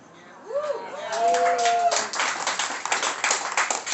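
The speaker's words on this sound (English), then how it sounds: "You guys don't have to applaud that." A comedy club crowd at a VFW stand-up show breaks into scattered applause that builds and lingers, with a voice and laughter heard before the clapping takes over.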